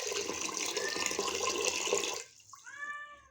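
Cold water is poured from a vessel into a bowl of pani puri mix, a loud continuous splashing pour for about two seconds that stops abruptly, followed by faint clinks and a short high squeak.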